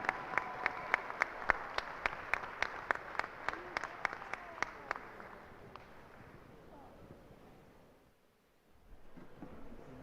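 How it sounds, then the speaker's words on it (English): A crowd at a Muskie Wrestling senior celebration claps for the seniors in a high school gym, with sharp individual claps over dense background applause that fades. Talk can be heard throughout. "let's have a final round of applause for our seniors"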